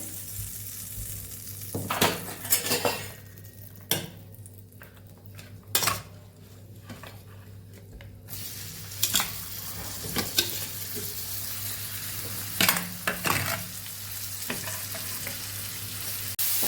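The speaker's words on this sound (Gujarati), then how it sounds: "અહીંયા આપણે મસાલા સાથે પેલા મરચાને મિક્સ કરી લેવાના છે" Drained red chilies being mixed into a sizzling spice masala for a pickle, with a low fry hiss beneath repeated sharp scrapes and clinks of a spoon against the pan, fairly quiet and close.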